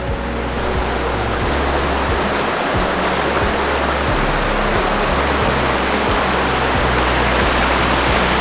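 The flooded Yarra River rushes past in a loud, unbroken roar of churning water, close by and steady throughout, with no talking.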